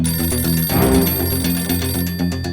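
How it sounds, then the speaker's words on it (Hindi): A telephone bell rings loudly and insistently in repeated trilling bursts, close and alone, on a tense crime drama set. "ये फोन बिना कभी भी आ जाता है।"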